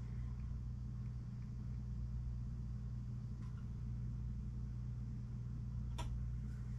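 A small oven used for curing painted crappie jig heads runs with a steady low hum and rumble while it heats up, constant and fairly quiet, with one faint tick.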